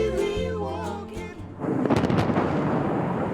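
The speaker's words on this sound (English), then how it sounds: "Explosions on hillsides." U.S. and South Korean forces set off explosions on hillsides during military drills: one deep booming blast follows a sung passage, then rumbles on for a couple of seconds.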